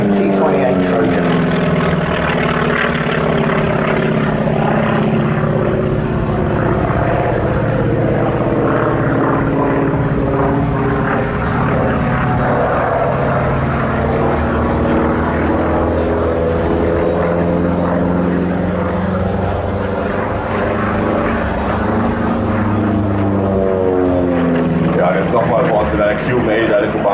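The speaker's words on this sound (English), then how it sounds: "the T-28 Trojan" A 1954 single-engine T-28B Trojan flown by the Red Bull Flying Bulls in an air display at ILA Berlin: a loud, continuous propeller drone with pitch sweeping up and down as it passes, with commentary talk over it.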